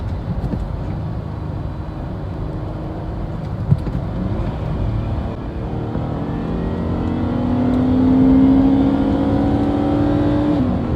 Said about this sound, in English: I can't believe this car actually revs that high